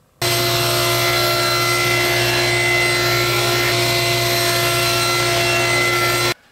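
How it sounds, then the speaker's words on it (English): A table saw ripping a wooden board into half-inch strips for trivets, a loud steady blade whine starting abruptly, holding constant for about six seconds, then cutting off sharply. "you want to rip it into half inch strips"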